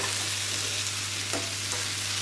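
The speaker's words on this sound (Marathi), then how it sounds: "आता झाकण काढून घेऊन व्यवस्थित परतून घेऊ" Sweet potato slices stir-fried in a pan once the lid comes off, giving a steady close sizzle and frying hiss with a faint scrape of stirring, with no talk.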